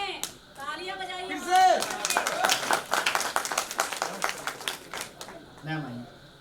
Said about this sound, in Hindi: एक बार जोरदार ताली बजा दीजिए भैया के सम्मान में।